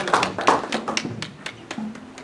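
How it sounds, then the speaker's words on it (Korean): Audience applause at a formal commemorative gathering, greeting newly arrived guests, heard as a short burst of scattered claps and taps that thin out over a couple of seconds. "새로 오신 분들을 위해서 박수 한번 하겠습니다"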